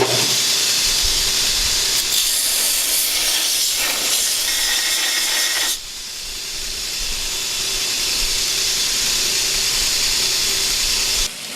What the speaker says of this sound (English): I've got more grinding to do